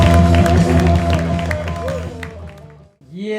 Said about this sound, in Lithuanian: tai šilti plojimai